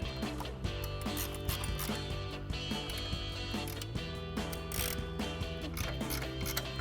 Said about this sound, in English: and then our 21mm ratcheting wrench. We can go ahead and tighten these down.